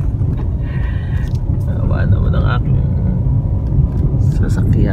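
A car rolls over a rough road and dips into a deep pothole. The low engine and road rumble stays steady and close, and a person talks over it.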